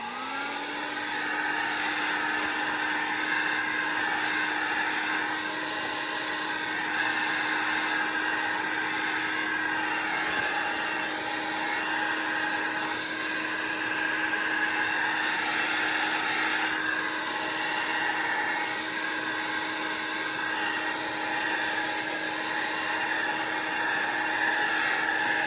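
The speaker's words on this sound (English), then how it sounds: "Now I've got my blow dryer." A blow dryer whirs continuously for the full stretch at steady, fairly loud volume, with a constant airy roar and hum, used in an alcohol ink painting session.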